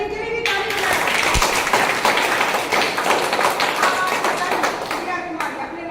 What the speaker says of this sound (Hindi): चलिए इनके लिए भी ताली बजाइए।